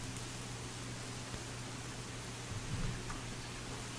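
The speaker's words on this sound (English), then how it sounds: "Yay, it's raining." Rain falls in a modded Minecraft world, heard as a steady, even broadband hiss with no distinct drops or other sounds.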